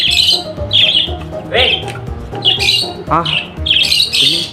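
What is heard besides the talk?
pet bird squawking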